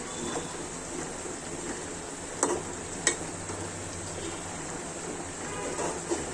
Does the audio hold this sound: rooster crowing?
no